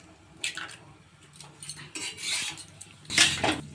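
Eggs being beaten in a bowl for an egg roll, irregular clinking and scraping strokes of a utensil against the dish, close and intermittent, with a louder burst near the end.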